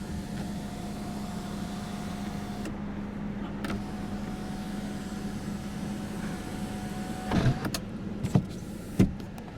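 A 2018 Subaru Legacy Limited sunroof motor hums steadily as the glass moves, pausing briefly before running again, followed near the end by a few sharp clicks and thumps in a quiet cabin.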